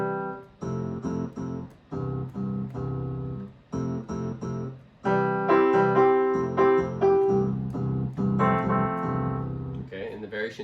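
Yamaha P121 digital piano on its piano-plus-bass sound, bass variation 1: chordal phrases over a steady bass line in a rhythmic accompaniment pattern, broken by brief pauses, played alone and close.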